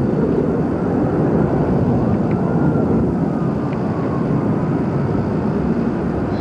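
Jet aircraft with afterburners fly high overhead above the burning World Trade Center area on September 11, a loud continuous deep roar that holds steady throughout, with no talking.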